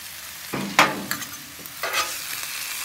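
Tomatoes and spinach sizzle in a hot pan as they are stirred, giving short bursts of scraping and sizzling at intervals over a quiet background.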